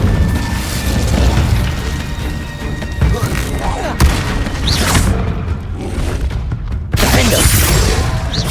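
Repeated Incendio fire spells cast in Hogwarts Legacy on PS5 whoosh and burst as loud booming blasts at intervals over several seconds, amid ongoing game noise.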